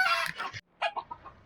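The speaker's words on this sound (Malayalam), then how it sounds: "ഇവിടെ ഇഷ്ടം പോലെ താറാവിൻ്റെ കൊച്ചും കോഴിയെല്ലാം ഉണ്ട്." Chickens at a dairy farm that also keeps ducks give loud, close clucks in two bursts split by a brief pause, with no one talking.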